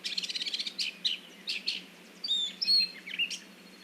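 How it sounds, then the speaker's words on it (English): Wild birds chirp and sing in quick bursts, several overlapping calls including rapid trills and clear whistled notes, fairly close and bright against a quiet background with no talking. "it's kind of fun to listen in to see if you can pick out the sounds of other birds"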